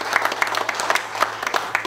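Brisk, close applause from a crowd at a prize giveaway event, many hands clapping in a dense patter, lightly mixed with faint voices.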